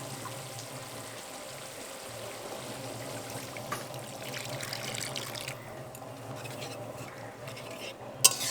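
Water is poured into a pan of fried spice masala for a banana-flower dhoka dish, making a faint trickle and soft sizzle with stirring scrapes and a sharp clack near the end, and no voices.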